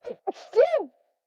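A single sneeze with a short in-breath leading into a sharp voiced burst, close and clear, followed by quiet.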